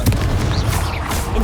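A Confringo blasting spell explodes in the video game Hogwarts Legacy, a loud, dense boom with continuous rumbling low end across a short burst of game noise.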